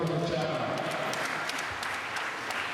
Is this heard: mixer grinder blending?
no